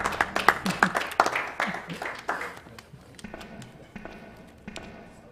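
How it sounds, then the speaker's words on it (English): Scattered audience clapping at a live speedrun event, a few quick sharp claps at first that thin out and fade into sparse taps over a quiet background. "You can clap if you want."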